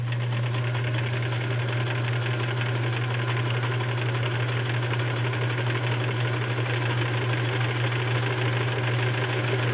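A vintage 1941 Kenmore convertible sewing machine runs a straight stitch, a steady, even mechanical hum with rapid needle chatter, close and continuous throughout.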